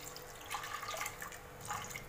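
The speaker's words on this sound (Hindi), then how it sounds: "पानी डाला एक ग्लास।" A glass of water is poured into a pot of dal, giving a faint, soft splashing trickle with a few gentle surges, heard alone and fairly quiet.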